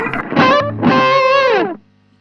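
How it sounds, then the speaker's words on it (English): An electric guitar played through a Zen Drive overdrive pedal on setting 4 with the gain fully up gives a saturated, harmonically rich distorted tone: a short chord, then a longer sustained bending note that stops abruptly into near silence. "So the Zen Drive set like this, I've got my gain all the way up to try and get that kind of sound"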